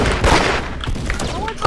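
Gunfire from a gun in the video game Da Hood cracks out in a quick burst of shots with thumping impacts, loud and close, in a short noisy stretch.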